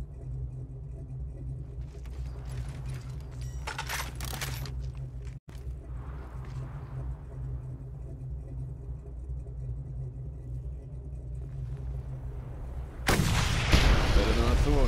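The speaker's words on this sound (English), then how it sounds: "Time to put this sniper rifle to the test." Sniper rifle shots in the Mad Max video game land as loud, booming blasts over a constant rumbling vehicle engine, with one crack early and a heavier blast near the end.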